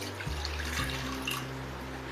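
Water poured into a bowl of wet ingredients for a chocolate sponge cake, a steady running stream with rising tone as the bowl fills, close and moderately loud with no talk.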